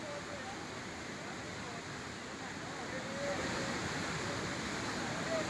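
Fast-flowing river water rushes beneath a wooden footbridge in Chamoli, a dense continuous roar of water that swells slightly louder partway through.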